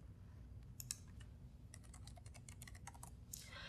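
Typing on a computer keyboard, a faint run of quick light key clicks in an uneven rhythm over quiet background hiss.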